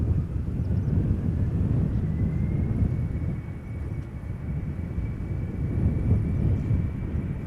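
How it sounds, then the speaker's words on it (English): An 11-year-old Embraer 190 airliner on KLM flight to Leeds approaches at Amsterdam Schiphol Airport, its steady low jet roar rumbling continuously at a distance with a faint high whine above. "Embraer 190 coming this way."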